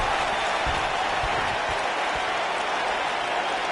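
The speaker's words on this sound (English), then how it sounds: "Listen to this crowd, King." Wrestling crowd in a video game, a dense, loud wash of cheering and applause that holds steady and unbroken for several seconds with no pauses.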